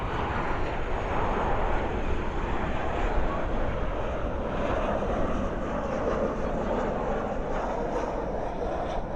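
Airliner landing at night at Dallas Fort Worth with spoilers up and thrust reversers deployed, a constant moderate engine roar and rumble heard at a distance without a clear peak.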